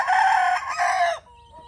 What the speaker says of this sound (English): Hello, Rooster.